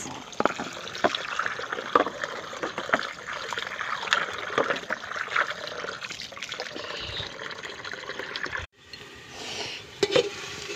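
Beef being washed by hand in water, with steady splashing, sloshing and trickling close by, a brief pause near the end before the water movement resumes.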